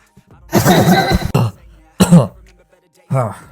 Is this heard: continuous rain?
no